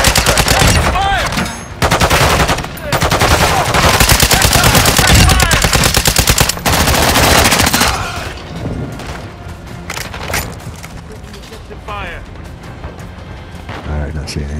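Video game gunfire in a military shooter, with long loud bursts of rapid machine-gun fire and booms for several seconds, then scattered quieter shots as players talk over the action.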